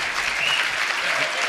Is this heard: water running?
no